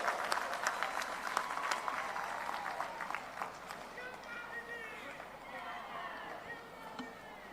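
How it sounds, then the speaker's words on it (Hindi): A large crowd at a Congress election rally in Bastar, Chhattisgarh, claps in sustained, fairly distant applause to welcome Priyanka Gandhi, with voices murmuring underneath as the clapping slowly thins. "जोरदार ताली बजा के स्वागत करें।"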